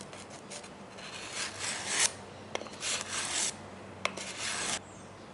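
A knife blade is drawn over fine 320-grit sandpaper in a homemade sharpening kit, making a series of close, soft rasping strokes with a couple of small clicks between passes and no talking.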